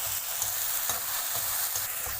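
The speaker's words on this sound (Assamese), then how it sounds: "এইখিনি অকণমান ভাজি ল'ম, ইয়াৰ তেলটো ওলাওক।" A paste of mustard, ginger, garlic and green chili sizzles and spits steadily in hot oil while being fried for a greens recipe. Faint stirring scrapes come through now and then, with no talking.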